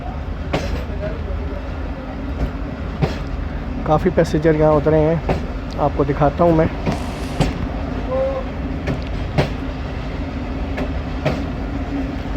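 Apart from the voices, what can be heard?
Attock Passenger train departing Sulemanabad railway station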